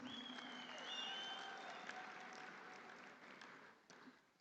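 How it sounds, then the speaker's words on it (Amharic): Audience applause fills a hall at a TikTok creative award ceremony in Ethiopia, a steady wash of clapping with a tonal musical bed beneath it, slowly fading over about four seconds. "እስቲ አንድ ጊዜ አጨብጭቡ ፕሊዝ"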